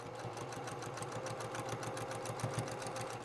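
A sewing machine stitches a zipper onto a lined pouch, running in a steady, fast needle rhythm throughout, quiet but continuous with no pauses.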